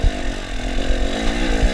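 A dirt bike engine labours up a steep logging road, a loud, strained, buzzing drone held steady at high revs with a rough pulsing undertone, close and continuous.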